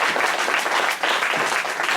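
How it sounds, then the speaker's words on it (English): A congregation claps in a round of applause at a Shabbat gathering in Cincinnati, brisk dense clapping with a brief dip in the middle, close and loud. "just give them a round of applause, please"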